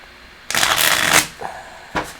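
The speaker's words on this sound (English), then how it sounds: "2 more shuffles." Tarot cards are shuffled close up in a burst of rapid riffling, followed by two shorter shuffle sounds, with no talking.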